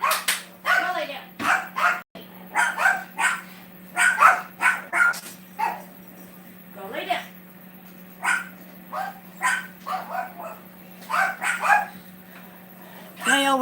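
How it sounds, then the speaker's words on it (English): Several dogs bark repeatedly as someone comes in through the door of a house. The bursts are sharp and close, come in uneven clusters with some yips, and a voice speaks briefly among them. "They always have to bark and throw a fit when Paul comes in the door"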